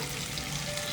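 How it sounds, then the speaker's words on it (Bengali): Onions sizzle in a hot pan with a continuous close frying hiss that stays steady throughout, with no talking. "পেঁয়াজটা বেশ ভাজা ভাজা হয়ে এসছে"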